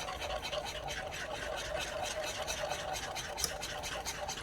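Creamy carnivore sauce being stirred after adding salt and granulated garlic, giving a steady, close scraping and swishing that runs on without a break and with no voices.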